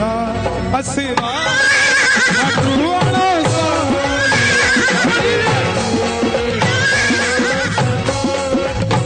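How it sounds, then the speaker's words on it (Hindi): A horse neighs loudly in a busy, continuous scene, its whinnies rising and falling over a dense layered backdrop with faint hoof clip-clop. "घोड़े"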